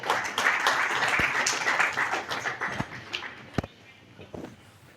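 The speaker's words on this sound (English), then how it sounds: "another round of applause to our travel partner" Audience applause at the official launch of IRONMAN 70.3 Colombo, a crowd clapping steadily and fairly loud, then thinning into scattered individual claps and a few sharp taps as it fades out.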